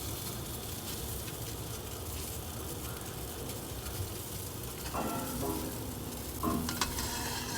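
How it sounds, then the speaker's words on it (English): A pot of Cerasee tea boils on the stove, a steady broad bubbling rush with a few clinks and scrapes from a stir near the end, close and unvoiced. "boil it, give it a little stir like that, and let our Cerasee boil for a couple minutes"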